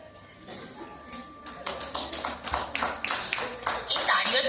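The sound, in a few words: audience clapping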